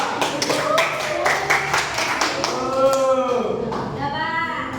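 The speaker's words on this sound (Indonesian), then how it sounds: "Tepuk tangan untuk kelompok 5." A burst of hand clapping from a group of primary school pupils in a classroom, the claps fading out partway as a voice carries on over the tail end.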